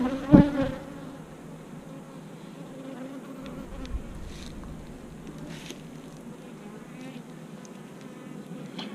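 Honeybees hum steadily at an open hive in March during an inspection, a continuous mid-level drone with a brief thump near the start and a few individual bees buzzing past close by.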